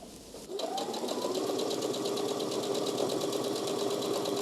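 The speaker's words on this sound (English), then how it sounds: "you're going to stay stitch the bodice to the skirt piece" A sewing machine runs a continuous stay-stitch joining a dress bodice to its skirt piece. It starts after a brief pause and then hums steadily with a fast, even needle rhythm, close up and alone.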